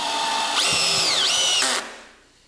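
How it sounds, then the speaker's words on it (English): A power drill drives a 2-inch wood screw into wood, its motor whining up to speed and holding steady for about a second before cutting off, the whir fading away afterward. "I'm just using some 2-inch wood screws. I'm going to run them in here."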